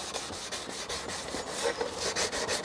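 Abrasive rubbing as clear coat is sanded by hand on a BMW E64 wing mirror, quick repeated back-and-forth strokes, close and fairly quiet, no speech.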